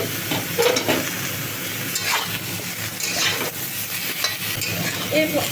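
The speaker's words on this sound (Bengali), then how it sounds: "প্রথম দিকে একটু মুলোটা ভেজেই নেবেন আমরাও ভাজছি" Radish frying in oil in a home kitchen pan while being stirred, continuous sizzle with recurring scraping and stirring strokes, loud and close.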